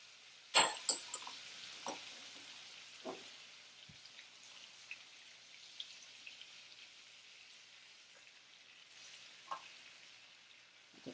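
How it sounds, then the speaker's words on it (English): Minced garlic frying in a pan alongside pork chops, a steady soft sizzle running throughout with a sharp crackling burst near the start and scattered pops as it is moved around. "I'm going to add the minced garlic. I'm just going to move this around the pan."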